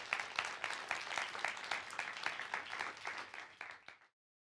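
An audience applauding to welcome a speaker onto the stage at a science talk event, a steady wash of many hands clapping for about four seconds before cutting off.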